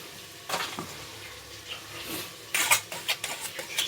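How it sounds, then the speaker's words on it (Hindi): Green keema, minced meat, frying in a pan in a home kitchen, with soft sizzling broken by scraping stirs and clinks of a spoon against the pan, loudest in a burst of stirring toward the end. "हरा कीमा जो है वो भुना जा रहा है"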